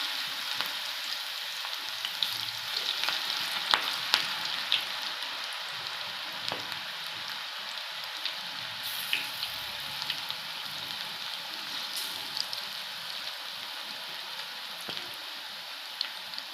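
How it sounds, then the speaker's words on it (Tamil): Drumstick leaf (murungai keerai) pakoda frying in hot oil, a steady bright sizzle running throughout with a few small pops and crackles, close and even in loudness, with no talking. "நாம் இப்போ இந்த கீரையை எடுத்து உள்ளே போட்டுடலாம்."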